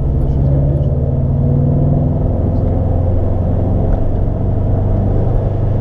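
Subaru STI engine pulling hard during a street race against a Corvette, a loud steady drone of engine and road rumble throughout, close and continuous with no voices.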